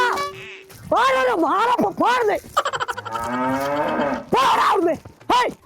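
A cow moos loudly and close by, giving several long, drawn-out calls one after another with short gaps between them.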